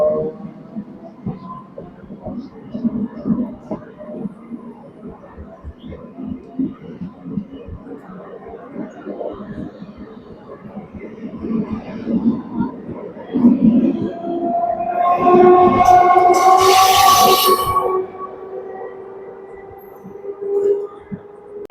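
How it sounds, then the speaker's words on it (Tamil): The Trichy to Villupuram MEMU passenger train pulls away from a station with low rumbling and clattering wheels, then a loud screeching, ringing passage swells midway before fading, with a voice speaking over the start. "நம்ம ட்ரெயின் கிளம்பிடுச்சு."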